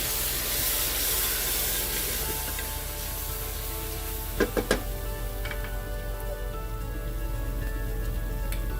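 Tomato paste cooks down in a pan for a beef shank korma, giving a soft steady sizzle and faint bubbling with a few brief sharp clinks of a utensil midway.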